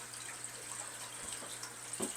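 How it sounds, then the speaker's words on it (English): Water runs steadily from a tap into a bucket for aquarium use, a continuous close splashing rush with a few faint knocks and drips near the end. "So simply take another bucket and fill it up."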